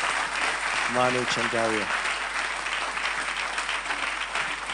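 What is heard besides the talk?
audience applause welcoming Manu Chandaria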